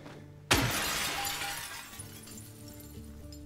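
Glass smashes loudly in the Silent Hill 2 Remake video game, a sudden sharp shatter that trails off into a lingering tinkle and ambient hum, with no talk.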